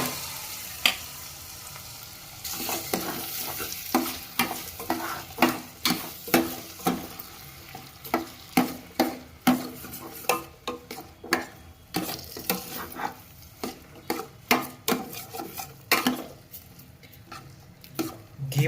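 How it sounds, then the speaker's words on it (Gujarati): Cracked wheat roasting in hot ghee, stirred in a steady rhythm of scraping strokes against the pan over a faint continuous sizzle, close and loud with no talking. "ઘીમાં આપણે ઘઉંના ફાડિયાને 10 મિનિટ શેકશું."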